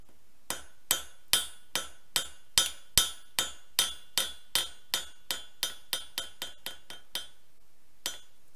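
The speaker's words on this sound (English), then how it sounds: "I'm going to hammer this shank here" Hammer striking a silver ring shank to flatten it, about twenty sharp metallic blows in a steady run that slowly lightens, followed by a pause and one last strike; near and clear, with no talking.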